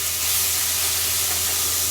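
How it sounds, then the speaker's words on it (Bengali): Garlic fries in a pan before the meat marinade liquid goes in, a dense, even sizzling hiss that holds steady and loud for the whole short stretch. "এটাকে অল্প একটু ভেজে নিয়েই যে লিকুইডটা ছিল মেরিনেট করার মাংসের"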